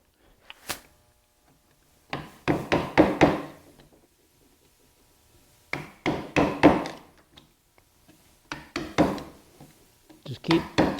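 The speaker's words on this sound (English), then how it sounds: "now I can start and do the hollowing. Just working down toward the center." Hard wood is being hollowed by hand to carve a letter opener, heard as close clusters of sharp wooden taps and knocks in short bursts, separated by brief quiet gaps.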